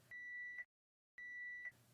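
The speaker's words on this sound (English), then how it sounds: "If power is restored within approximately 2 hours, an alarm occurs when power is restored." Therapy device alarm sounding as power is restored after a failure: two sustained electronic beeps, each about half a second long, separated by a brief silence, steady and clear with no talk.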